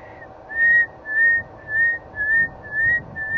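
A person whistles a series of six rising, repeated notes in an even rhythm, imitating the call of a pearl-spotted owlet outdoors, clear and close over a low background hum.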